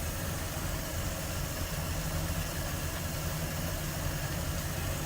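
A 1946 Lincoln Twelve coupe with a V12 engine, new plugs and a 6-volt system idles steadily. It makes a dense, even rumble with a low throb, close by and unchanging throughout.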